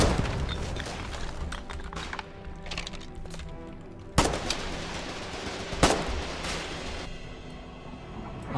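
Gunfire at a pillbox in Colonial Marines: sustained bursts of automatic fire with two heavy, sharp impacts standing out, loud and continuous with no talking.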